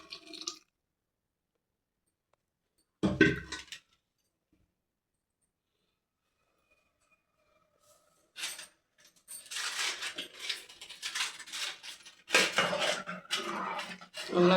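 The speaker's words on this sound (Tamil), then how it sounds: "நல்லா கலக்குங்க." Intermittent metallic scraping and clinking of a spoon stirring a pot of sambar, with a long quiet gap before a busier stretch of scraping.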